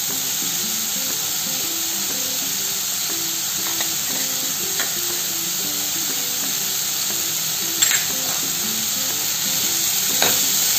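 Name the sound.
pumpkin cooking in a pan with jaggery added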